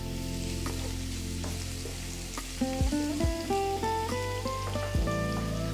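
Ginger sticks and garlic fry in a pan for Indian carrot rice, a soft continuous sizzle with scattered pops, accompanied by a tonal melodic background with sliding notes.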